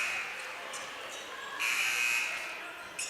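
A brief, loud electronic buzzer sounds over crowd noise in a gym during a Lancaster-Lebanon League basketball championship game between Cedar Crest and Lancaster Catholic.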